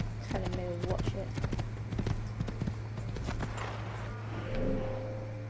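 Horse hooves clip-clopping in the video game Assassin's Creed, a quick rhythmic run of hoof hits over a steady low hum, with a person talking over the game sounds.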